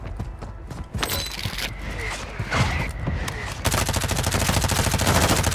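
Gunfire in a first-person shooter video game: scattered single shots, then a dense sustained burst of rapid automatic fire that grows loud and continuous toward the end, with occasional mechanical clicks.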